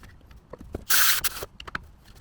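Short bursts of cleaner spray into the throttle body of a Kia Rio: one strong hissing spray of about half a second, surrounded by small clicks and handling noises.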